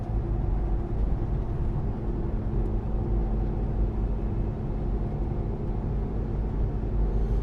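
Inside a lifted, fully built stage 6 Jeep Cherokee XJ on the move, a steady low rumble of road and engine noise fills the cabin at moderate level, with no radio or vent fan running and no one talking.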